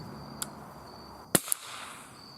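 A single sharp crack from a Remington 581 Sporter .22 LR target rifle at an outdoor range, brief and fairly faint, with a small click before it and a quieter pop just after.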